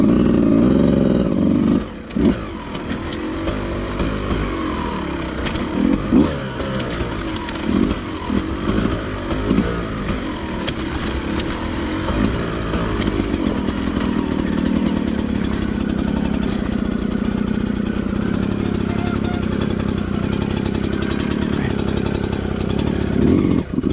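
A Beta 200RR two-stroke dirt bike works through tight downhill corners, its engine buzzing continuously with rises and dips in revs as the rider feathers the throttle, close and loud for the whole stretch.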